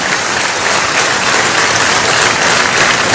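A dense, loud burst of applause from a large audience at a business summit, continuous and even throughout.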